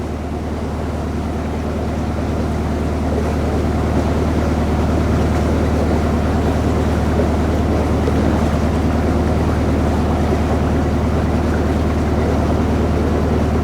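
A narrowboat engine drones low and steady, rumbling continuously throughout, unchanging and fairly loud, running nearby.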